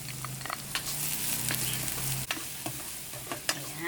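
Garlic and onion sauté in a hot pan, sizzling steadily while a spatula scrapes and stirs in irregular knocks, close and fairly loud with no voice.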